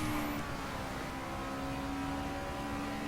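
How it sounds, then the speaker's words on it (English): A Subaru BRZ in the racing video game The Crew drives at high revs, its engine a steady sustained drone with a tonal whine held at a fairly constant pitch and no talking. "It's high revving and screaming, and then you change gears,"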